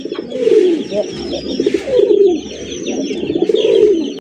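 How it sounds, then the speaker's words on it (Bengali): Rasgolla pigeons coo in repeated low, rolling phrases, close and fairly loud, with soft higher chirps scattered behind. "সেরা এক জোড়া রাসগোল্লা কবুতর"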